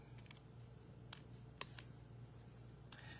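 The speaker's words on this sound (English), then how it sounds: "So I'm just going to trim the flowers and the leaves from the Misty Moonlight die cut." Scissors trimming flowers and leaves from a paper die cut at a crafting table: a few quiet, sparse snips and clicks over a low steady hum, faint and close.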